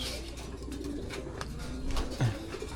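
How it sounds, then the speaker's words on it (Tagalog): Young racing pigeons at a loft in Pagbilao cooing softly, with low murmuring coos, a few faint wing flutters and ambient background noise, fairly quiet and close. "Ito yung mga young bird namin"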